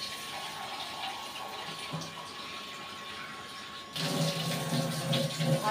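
Water pours into a pot of nearly cooked rice, a soft hiss that swells into a louder, fuller gushing splash partway through.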